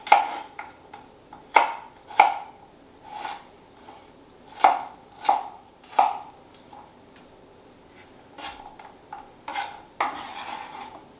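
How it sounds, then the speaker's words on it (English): A knife roughly chops falafel ingredients on a board in a home kitchen, giving irregular, close, crisp knocks with short pauses between bursts and no talking. "Little bit of a rough chop with these as well."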